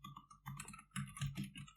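Typing on a computer keyboard, a quick close run of uneven key clicks in short bursts at moderate loudness, with no voices.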